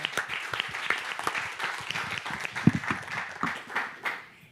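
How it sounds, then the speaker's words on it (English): Audience applause for a speaker at an academic conference on corporate sustainability due diligence, a steady patter of many hands clapping at moderate volume, thinning and fading toward the end. "Round of applause, and probably Claire will have the floor."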